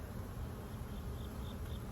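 Honeybees buzz steadily and densely around an open hive during an inspection of brood frames with young bees emerging, a close, unbroken hum with no voices.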